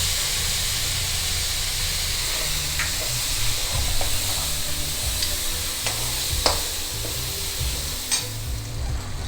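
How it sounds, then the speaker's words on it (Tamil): Tomatoes with ground cashew and almond sauté in oil with a steady, close sizzle, while a spoon stirs and scrapes the pan in scattered clinks and clatters throughout. "தக்காளி சேர்த்துடலாம். நல்லா எண்ணெய் பிரிஞ்சு வர அளவுக்கு வதங்கணும்."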